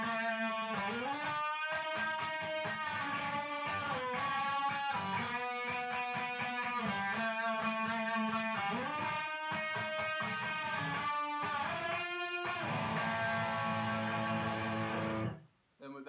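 Electric guitar solo built on unison bends and vibrato, with repeated descending and ascending runs over a backing band; the guitar sits loud and up front throughout, then cuts out abruptly near the end.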